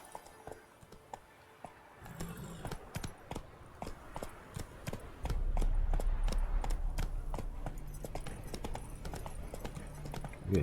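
Horse hooves clip-clop in The Witcher video game, starting sparse and quiet, then settling into a steady, quickening rhythmic trot of sharp hoof strikes, with louder rumbling game ambience joining midway.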